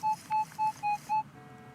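A metal detector gives a high-pitched target tone while hunting for silver jewelry on land: five short, even electronic beeps in a quick regular rhythm, close and clear, then quiet.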